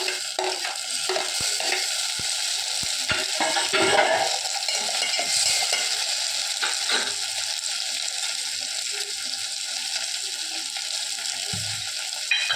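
Loud steady sizzle of tomatoes and onions stir-frying, with intermittent scraping and clatter of a spoon moving through the pan.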